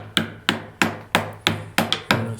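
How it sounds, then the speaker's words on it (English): Hammer knocking out waste wood between saw cuts, with seven sharp, evenly spaced blows that each ring and decay quickly, close by and with no talking. "use the hammer to knock it out after that"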